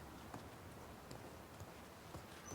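Horse hooves in the video game The Last of Us Part II: faint, soft clip-clop steps at a slow walking pace under a low background hiss, with no talk.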